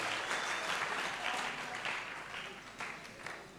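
A church congregation claps loudly and continuously, a dense, steady applause filling the room throughout with no break.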